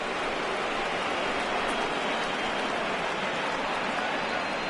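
Steady rain pours over a baseball stadium during a 2019 ALCS game between the Astros and Yankees, a dense, even hiss of falling drops filling the whole stretch with no break and no voices.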